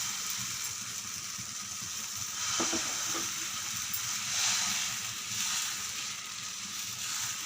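Egg adai dosa batter with onions sizzles steadily on a hot dosa tawa, a soft continuous frying crackle with a few faint scraping taps.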